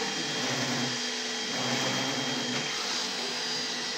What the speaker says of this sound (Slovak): ten vysávač je strašne pomalý